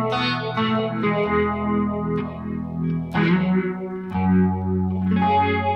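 A new preset on a Hologram Chroma Console effects pedal plays sustained, shimmering tones with chorus-like wobble, distortion and echo, swelling in layered waves with a few brighter accents, steady and fairly loud with no talking.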